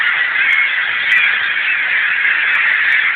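Loud, continuous chorus of seagulls calling from a flock close by, dense overlapping cries filling the whole stretch with no pauses.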